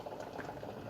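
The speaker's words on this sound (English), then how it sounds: "it's boiling, it's starting to boil quite a lot" A pot of Thai green curry with chicken boiling hard, a steady bubbling and gurgling simmer heard up close for a brief moment without any talk.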